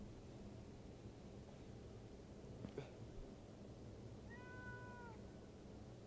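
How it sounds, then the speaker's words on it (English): A cat meows in a video game, a short rising-then-falling meow heard once near the end over a steady hiss of background noise, with a brief faint chirp a moment before. "This is where I swear to God I heard that cat again."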